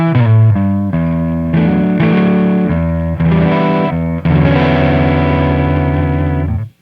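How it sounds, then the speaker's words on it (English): An electric guitar through a Marshall Plexi amp, set clean at the edge of breakup, rings out in strummed chords and sustained notes, slightly gritty and loud, with no talking. "Plexi Marshall. And these amps sound great set clean."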